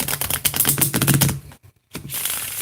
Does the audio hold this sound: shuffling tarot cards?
yes